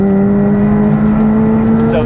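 A McLaren 765LT supercar accelerates hard from a launch with the first gear short-shifted, its engine a loud, close, steady drone rising slightly in pitch, with a voice talking over it.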